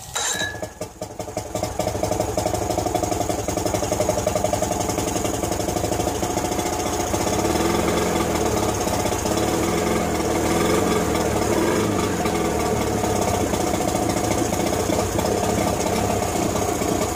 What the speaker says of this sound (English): Started right up incredibly well, actually.